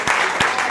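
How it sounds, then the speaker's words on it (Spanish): Audience applause for the drummer at a concert in a vaulted cellar venue, a short dense burst of clapping filling the room with no voices over it. "Fuerte aplauso para él"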